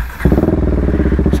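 A modified KTM Duke 390 with Stage 2 tuning idles loud and close, its exhaust a rapid, throbbing rumble that holds steady with a slight rise near the end.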